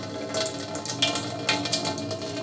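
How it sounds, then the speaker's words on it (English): Water is poured out of a jar holding tomato seeds, a close splashing trickle that comes in uneven gushes over a couple of seconds. "And then we just pour it out."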